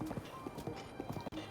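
Horse hooves clip-clop steadily in a video game as the mount runs on its own, a quick, even rhythm of close, moderately loud hoofbeats with no one talking.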